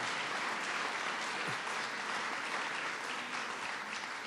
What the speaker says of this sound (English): Let's give Bishop Malone another round of applause.